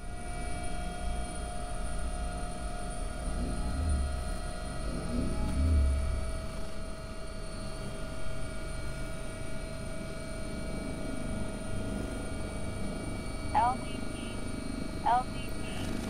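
Steady, droning rotor and turbine hum of an AW-139 air ambulance helicopter in a flight simulator, continuous and moderately loud, with a few brief tonal beeps late on.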